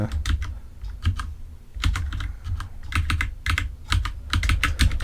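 Computer keyboard keys pressed in irregular clusters of clicky taps while trying controls for a NES game remake, close and fairly loud with short pauses between bursts, and no talking.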